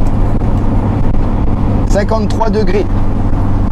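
A car engine runs steadily at a loud, close level beneath someone speaking French, its low drone continuous throughout.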